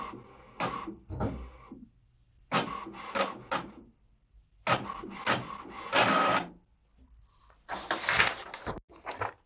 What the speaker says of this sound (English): select Print and wait for the page from the printer